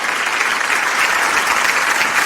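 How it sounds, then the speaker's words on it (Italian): A studio audience on an Italian TV variety show applauds a musician as he arrives, a dense, loud, unbroken wash of clapping from many hands with no pauses. "Applausi per lui,"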